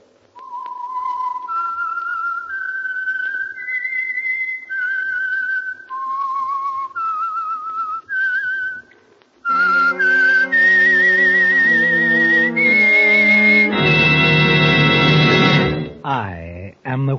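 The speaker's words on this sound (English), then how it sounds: "the signal to listen for is this whistle that identifies the Signal Oil program" A whistled signature melody for the Signal Oil radio program, the Whistler, rises and falls in clear sustained notes, then swells with a louder orchestral passage behind it.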